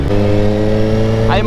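Racing motorcycles, a Yamaha and a 10R, roar past at a track-day run, a loud steady engine drone with a brief rising whine near the end.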